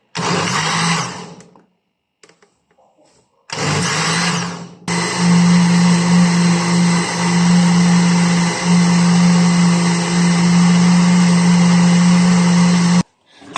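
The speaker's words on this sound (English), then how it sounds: "now you put it into the blender and you blend for like about 5 minutes or so" A blender whirs loudly in two short pulses while blending a butter chicken mixture, then runs continuously for several seconds with a steady, high-pitched motor drone, close by.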